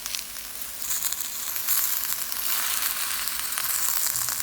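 Shrimp fried rice with cabbage sizzles in a hot pan after soy sauce goes in, a steady, fairly quiet crackling hiss that swells slightly and carries on without talk.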